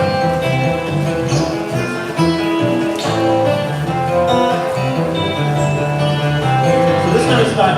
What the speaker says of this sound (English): So this kind of style is called like Travis picking